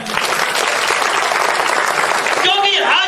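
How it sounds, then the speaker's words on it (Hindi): Loud, dense applause from a large audience at a business leadership speech event fills the whole stretch steadily, with a voice breaking in near the end. "उनके लिए एक बार जोरदार तालियां"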